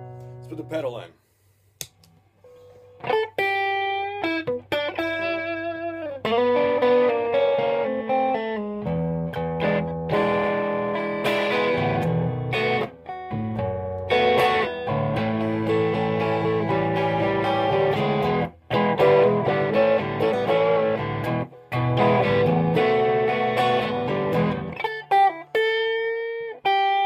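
Electric guitar pushed through a Lovepedal Super Six SRV overdrive pedal into a Quilter Tone Block 200 amp and Mesa Boogie 1x12 cab, opening with sparse notes, then dense, loud driven chords and lead phrases with brief breaks.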